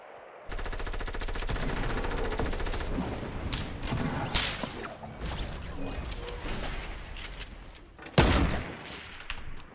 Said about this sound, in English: He's getting shot by two people from hill.